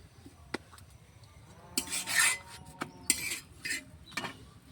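Paratha dough being rolled out on a board, soft scraping and rubbing strokes with light knocks of the rolling pin, several short bursts in an irregular rhythm, close and fairly quiet, with no talk.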